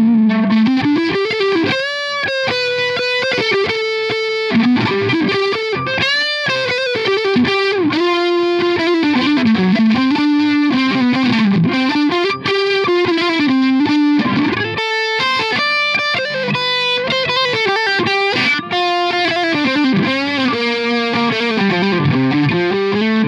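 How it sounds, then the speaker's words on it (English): Overdriven electric guitar on the neck pickup of a custom Strat-style guitar fitted with DiMarzio hum-cancelling pickups, playing a continuous melodic line with bends and sustained notes, loud and close throughout with no talking. "I actually like the sound of the neck pickup with an overdriven settings"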